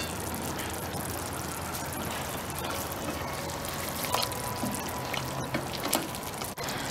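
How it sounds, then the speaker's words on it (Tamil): Coconut milk crab curry bubbling in an open pot, a steady close hiss of boiling with soft pops and occasional faint clinks. "நல்லா கொதி வந்துருச்சு."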